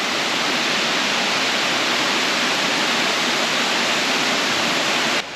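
Steady, full roar of a waterfall at the end of the Cross Island Track, a dense unbroken rush of falling water close by that runs for several seconds with no voices, then cuts off abruptly.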